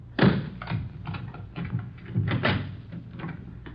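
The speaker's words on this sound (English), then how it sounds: "Let me get the door open." A door being opened in an old radio drama: a series of wooden knocks, rattles and latch clicks in an uneven sequence, close and fairly loud, with no voices over it.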